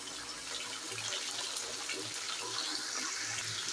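Chicken pieces for biryani fry in a pan, giving a steady, dense hiss that runs evenly throughout with no voices.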